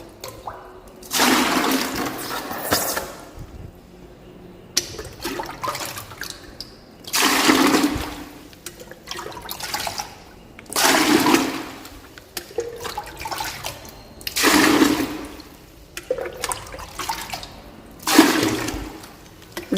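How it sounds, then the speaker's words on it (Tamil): Water from a home aquarium fish tank being scooped with a bucket and poured out, several separate splashing gushes of a couple of seconds each, repeating every few seconds, fairly close with quiet gaps between. "நம்ம இந்த வாளியில் ஃபஸ்ட்டு இந்த தண்ணியெல்லாம் எடுத்து வெளியில் ஊற்றிட்டு"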